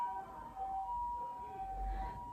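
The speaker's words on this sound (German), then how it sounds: "Ein Moment, japanischer Krankenwagen." Japanese ambulance siren outside an apartment in Tokyo, a steady two-tone wail heard at a distance through the walls, fairly faint under low room rumble.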